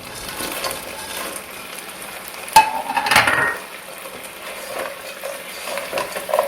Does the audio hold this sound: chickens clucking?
no